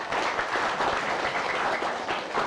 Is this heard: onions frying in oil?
no